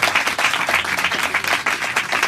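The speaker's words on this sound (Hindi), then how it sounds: "आइए जोरदार तालियां बजाकर पाक के लिए, खुदा के रूह के लिए जोरदार तालियां बजाकर खुदा के नाम पे गाएंगे" A church congregation claps loudly and energetically together, a dense, continuous roar of applause with an even, driving rhythm and no break, close and full throughout.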